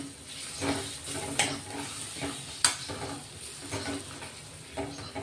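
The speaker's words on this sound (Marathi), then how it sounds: "असं चांगलं मिक्स करून घ्यायचा तो खिमा केलेला" A spatula stirs ground chickpea kheema masala in a pan in a steady rhythm of scraping strokes and sharp clinks against the metal, over a soft background sizzle, close and quiet.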